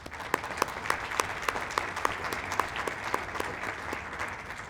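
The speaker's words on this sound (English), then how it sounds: "could we please give them a round of applause?" Audience round of applause at a tourism summit, steady crowd clapping with several sharper nearby claps standing out, sustained and moderately loud throughout.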